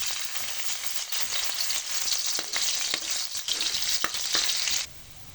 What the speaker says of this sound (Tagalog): mag-init tayo ng mantika sa kawali. Una, ilagay natin yung bawang.